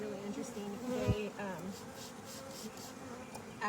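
A honeybee swarm hums and buzzes steadily at close range, with brief louder passes as individual bees fly near, under a faint voice.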